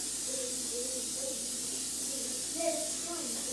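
A steady, moderately loud hiss of cooking spray runs throughout in a kitchen, with faint talking underneath and a brief louder burst near the end.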